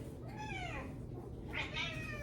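A pet cat lets out several drawn-out, complaining meows while being picked up, fairly faint and close over a soft room hiss.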